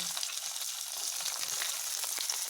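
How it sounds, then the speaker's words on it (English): Steady, bright crackling sizzle of gooseberries frying in hot oil, close and continuous, with small pops scattered throughout. "The sizzling sounds just making my mouth water."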